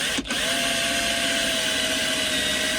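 A hand drill turns slowly while cutting into plastic, a steady whining drone with a short bump near the start, close and alone.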